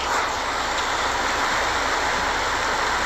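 Heavy rain pours down in a steady, dense broadband roar, close and continuous throughout with no breaks and no voices.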